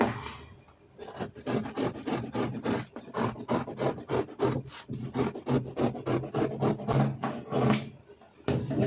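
Scissors cut through blouse fabric in a rapid run of short rasping snips, close and crisp, pausing briefly before continuing in an irregular rhythm.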